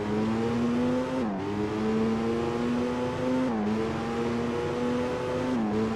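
A PS2 Alfa Romeo racing car engine in Alfa Romeo Racing Italiano whines steadily at high revs as the wheels spin, its pitch dipping briefly at each gear change, loud and continuous with no talk.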